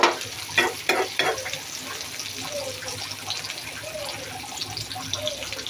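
Green chilies, onion and tomato sizzle in hot oil in a pan, giving a soft, continuous frying crackle with a few sharp clatters near the start, fairly quiet and alone.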